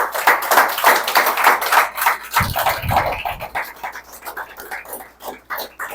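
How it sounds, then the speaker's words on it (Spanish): Quick, loud, rhythmic handclaps from a congregation at a Shabbat service run in steady bursts, a dense close clapping texture that thins toward the end. "Denle un fuerte aplauso al Eterno."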